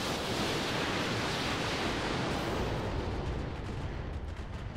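Heavy continuous roar of mech weapons firing in the Roguetech battle game, a dense broadband rumble holding steady throughout with no talk over it.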